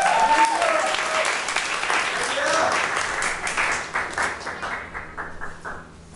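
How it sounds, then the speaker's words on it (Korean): A church congregation applauds steadily during a Sunday service, the clapping holding strong for several seconds before thinning out into scattered claps and fading. "우리 아버지 하나님께 찬양의 박수 한번 올려봅시다"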